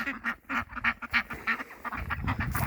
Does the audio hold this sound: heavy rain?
no